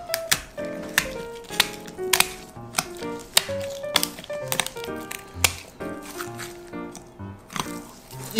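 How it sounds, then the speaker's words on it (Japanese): Scissors snip through the hard belly bones of a large fish of over 20 kg in a run of sharp, close crunching cuts at an uneven rhythm, with faint kitchen clatter between them. "ハサミで切っていきます。"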